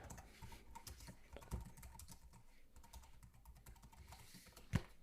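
Quick, irregular key taps from a keyboard connected to a Samsung Galaxy Tab A11, faint and close, with a couple of sharper clicks.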